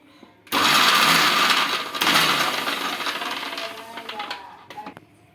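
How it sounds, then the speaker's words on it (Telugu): A mixer grinder coarsely grinding shredded cabbage into appam batter without water, starting abruptly with a loud, dense whirring roar that slowly eases and grows uneven before cutting off. "ఇలా చూడండి కొంచెం క్లోజ్గానే గ్రైండ్ చేసుకోవాలి కోర్స్గా"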